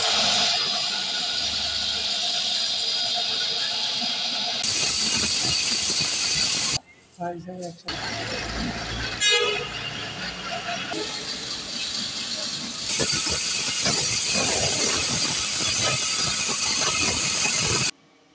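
A turmeric and chili spice grinding machine runs with a loud, harsh mechanical roar and hiss. It cuts out briefly partway through, restarts unevenly, then surges back to full running before stopping abruptly at the end.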